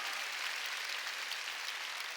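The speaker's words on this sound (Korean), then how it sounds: "깨달은 사람 박수 치라니까" A church congregation applauds during a Sunday worship service: a dense, even rush of clapping hands that continues without pause, with no voices above it.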